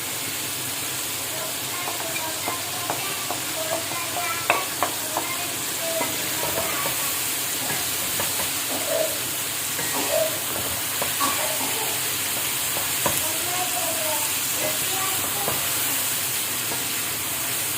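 Chicken qorma in the degi style frying with spices over a high flame: a steady broad sizzling hiss with scattered small crackles and pops that continues throughout, moderately loud.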